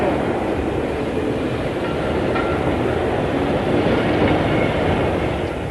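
A mail train runs through a stormy night with a steady, loud rumble of wheels and carriages, a continuous rolling roar that stays close throughout with faint rhythmic clatter.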